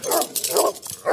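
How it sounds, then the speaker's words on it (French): Several dogs yap and whimper in short bursts of three or four close barks, set in a narrated hunting legend around the Grand Veneur of Fontainebleau forest, with a faint metallic rattle beneath. "un cliquetis d'armure accompagné de jappements de chiens"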